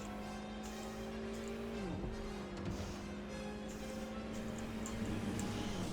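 Car traffic in Watch Dogs Legion: a steady engine drone with a pitch dip as a vehicle passes, tire noise underneath, continuous and fairly close with no talking.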